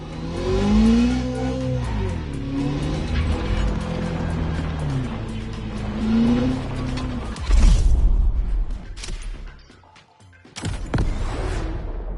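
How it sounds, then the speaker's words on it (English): Ferrari F50 engine in The Crew Motorfest video game, revving up and down in repeated rising sweeps, then mechanical clunks and a brief drop before the engine roars again. "The Ferrari F50, a bridge between road and racetrack."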